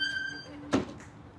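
A door swings shut with a single short, fairly loud thump in a quiet room, a faint high electrical whine in the background.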